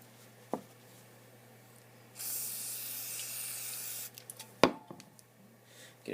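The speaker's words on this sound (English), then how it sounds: "swipe it off the rag and get some brake cleaner on it" An aerosol can of brake cleaner sprays in one continuous hissing burst lasting about two seconds, close by, set among a few sharp clicks and knocks from a workshop bench during shock absorber disassembly.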